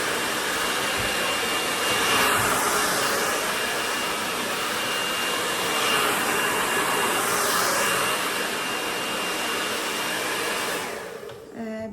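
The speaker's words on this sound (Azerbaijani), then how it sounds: "Bu şəkildə həmişə saçınızı qurudun." A handheld hair dryer blows steadily while drying hair at home, a loud continuous whooshing roar that swells and eases slightly as it is moved, then cuts off near the end.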